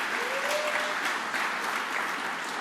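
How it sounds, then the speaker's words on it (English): Sustained applause from the crowd at a bus depot event with a New York governor and transit union leaders, a dense steady patter of many hands filling the space with no speech over it. "Give Mark Henry a round of applause."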